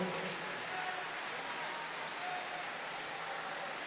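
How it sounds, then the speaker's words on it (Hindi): Applause from a large crowd at a Hanuman Chalisa havan, a steady dense wash of clapping that holds evenly throughout with no voices on top. "जोरदार ताली बजाकर धन्यवाद दो।"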